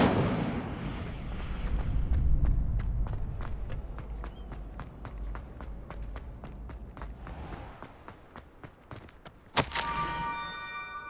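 Incendio fire spell cast in the video game Hogwarts Legacy: a rumbling whoosh builds and fades, followed by a run of sharp rhythmic footstep-like ticks and a bright crackling burst near the end, no talking.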